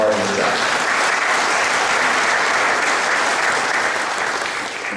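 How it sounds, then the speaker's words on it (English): A large audience at an awards gathering applauds steadily, a dense, even clapping that starts over the tail of a voice and holds for several seconds before beginning to fade. "I want you to give yourselves a round of applause for that,"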